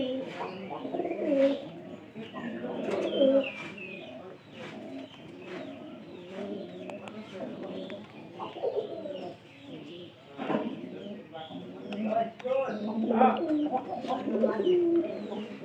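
Pigeons in a new pigeon loft coo repeatedly in soft, overlapping bursts, with scattered chirps nearby.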